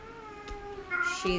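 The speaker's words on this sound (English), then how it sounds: "let me just have my husband come grab the cat" A domestic cat meows indoors. Two drawn-out, close meows come one after the other, the second louder and rising, and a quiet voice is heard in the background.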